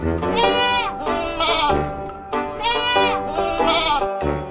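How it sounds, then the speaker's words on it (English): Goats bleat loudly and repeatedly close by, a run of wavering, nasal cries that follow one another almost without pause. "They are goats."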